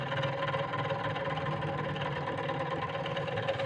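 A DC motor running at 1250 RPM in a servo motor test setup, giving a steady, even mechanical hum with a faint rumble and no change throughout.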